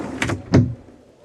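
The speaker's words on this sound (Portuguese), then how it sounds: "Vou fechar aqui a porta." The door of an acoustic booth is shut, with a brief sliding rub followed by a dull, close thud as it seals, then quiet.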